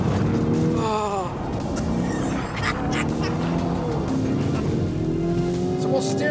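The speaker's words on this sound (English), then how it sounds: "It doesn't sound like a V8. I think that's the turbos, isn't it?" A Lamborghini Urus Performante with a twin-turbo V8 drives along, its engine note rising and falling through gear changes under steady conversation in the cabin.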